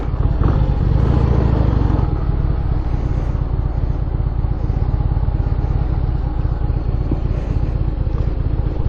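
Steady traffic rumbles across a large bridge, a continuous mix of car and motorcycle engines with a faint clatter, heard from a moderate distance with no talking.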